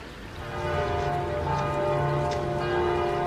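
Church bells in a film scene, ringing steadily with sustained overlapping tones and a hiss like rain beneath, loud and continuous with no speech.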